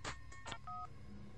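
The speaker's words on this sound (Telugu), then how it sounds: "అది సెల్ ఫోన్ రాగం బావా" A cell phone gives a quick run of short electronic beeping tones, faint and brief, with no voices.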